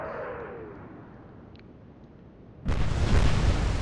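Naval gunfire in the Atlantic Fleet video game: a steady rumbling background, then at about 2.7 seconds a sudden loud broadband boom of a shell hit that sustains to the end, with no speech.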